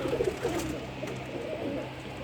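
Pigeons, Indian flying pigeons (kabootar) at a rooftop loft, coo continuously and fairly close, a steady low burbling with faint flutters as birds land, no speech over it.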